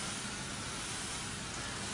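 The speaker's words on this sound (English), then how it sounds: "we're now going to spray it down with the water again, just to get the surface nice and wet" Water sprayed from a spray bottle onto glass, wetting the surface before optically clear film is applied; a steady, dense hiss runs continuously and fairly close throughout, with no talking.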